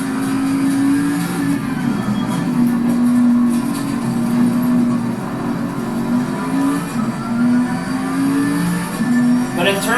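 Bentley race car engine in the Assetto Corsa Competizione racing game, a loud sustained drone rising and falling as the revs climb and drop through gear changes, steady and close throughout.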